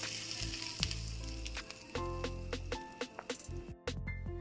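A hot-oil tempering of mustard seeds and asafoetida poured into raw mango chutney sends up a loud burst of sizzling, then fizzing crackles and sharp pops that gradually thin out and fade.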